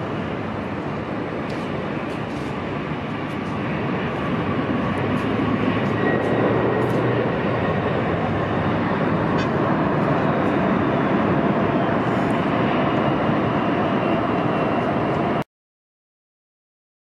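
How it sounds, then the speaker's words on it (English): A heavy Asiana airliner on arrival from Seoul Incheon lands at LAX with a steady, broad engine and air roar that swells slightly midway, heard from a distance with no talk, then cuts off abruptly. "after a 10 hour and 36 minute flight. Good landing."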